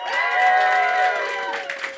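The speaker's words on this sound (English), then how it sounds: "clap it up right now" Audience at a roast battle comedy tournament semifinal claps and cheers, a sustained crowd roar with shouted voices rising over steady applause, tapering slightly toward the end.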